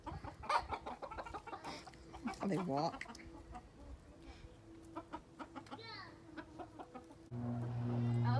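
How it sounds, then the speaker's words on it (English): Chickens at a farm, including white silkie hens, cluck and call in short bursts close by, with people talking over them throughout. "What kind of chickens are those?"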